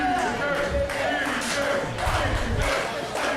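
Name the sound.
wrestling crowd cheering for Effy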